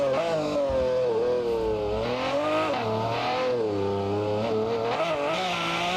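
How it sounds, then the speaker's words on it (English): Lamborghini Aventador S engine in BeamNG, a loud continuous high-revving wail with shifting pitch as it accelerates and eases, sustained throughout with no talk. "But this big Aventador, this thing feels a lot more control."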